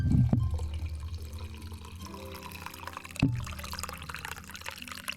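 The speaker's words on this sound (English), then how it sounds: "Just some coffee pouring ASMR for you guys." Coffee pours steadily in a liquid stream, with a soft splash at the start and another brief burst around three seconds, close and moderately loud with no talking.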